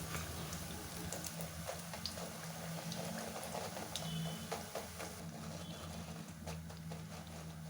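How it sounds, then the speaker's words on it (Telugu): Soya chunks fry in hot oil in a pan, a faint continuous crackling sizzle with scattered pops and occasional clicks, heard alone without talking. "ఇలా 2 సైడ్ టర్న్ చేస్తూ ఫ్రై చేసుకోవాలి"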